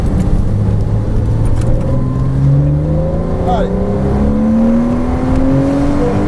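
A Porsche Cayman S engine revs up under acceleration on a race track, its loud, close drone climbing steadily in pitch inside the cabin while a driving instructor talks over it.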